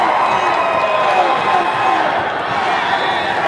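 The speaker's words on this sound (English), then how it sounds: "Alchesay crowd here at the Findlay Toyota Center in Prescott. They're letting the Lobos have it right now" A large Alchesay crowd roars and cheers continuously at a girls' high school basketball state championship game in an arena in Prescott, a dense, sustained wall of noise with a commentator talking over it.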